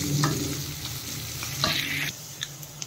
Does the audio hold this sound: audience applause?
no